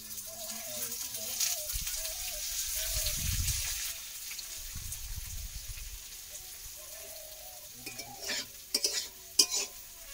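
Vegetable bhaji frying in a generous amount of oil while a spoon stirs it, a steady low sizzle with scraping bursts and a few sharper clinks near the end.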